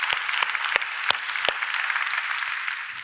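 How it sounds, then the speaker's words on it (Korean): Korean church congregation applauding during a Sunday worship service, a steady crowd of clapping hands with several sharp, prominent nearby claps at the start, gradually softening toward the end. "우리 하나님께 영광의 박수 올려드립니다."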